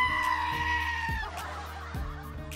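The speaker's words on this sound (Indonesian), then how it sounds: "kambing." A goat gives a drawn-out, wavering bleat over steady background music with recurring low thumps, moderately loud and up close.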